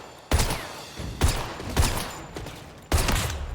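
Gunshots in a video game: four sharp, loud reports fire at uneven intervals, each one followed by a brief ringing tail, with no voices over them.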